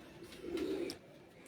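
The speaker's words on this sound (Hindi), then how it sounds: "ये देखें जी आप कबूतर आपके सामने, चेयरमैन साहब के हाथ में है क्या कबूतर" A prized dub-breed pigeon held in a man's hand gives a single soft, low coo, close and brief, with no talk over it.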